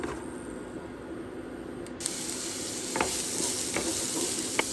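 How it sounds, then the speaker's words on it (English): Garlic and onions frying in oil in a pan, a continuous close sizzle that grows louder after they go in, with a few scraping stirs breaking through. "We're going to add some garlic and onions."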